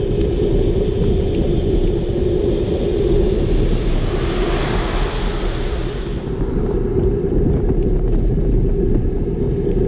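Steady, loud interior rumble from a car driving, with a constant low roar and wind-like noise filling the whole stretch and a brief swell in the middle, no talk.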